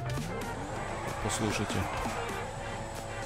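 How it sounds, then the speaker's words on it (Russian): The engine of a car in GTA 5 hums and drones steadily in the background while someone speaks over it, with some brief mechanical clunks midway. "Один вот этот уже движок"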